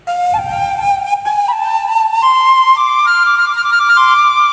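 Sampled Vietnamese bamboo flute voice on a Korg Pa1000 keyboard plays a clear, breathy melodic line of sustained, gliding notes stepping upward, loud and close with no talk.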